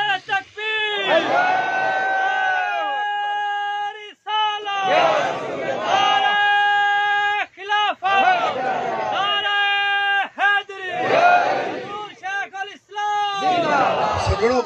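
A large crowd chants slogans in praise of Haji Sahib at a gathering, loud rhythmic bursts of many voices over a sustained amplified tone, repeated in several waves.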